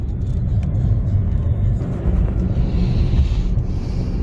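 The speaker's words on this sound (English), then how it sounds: "We're out for a drive quick here." A 2012-or-later Chevy Sonic driving on a road, heard from inside as a loud, steady low rumble of engine and road noise with some wind.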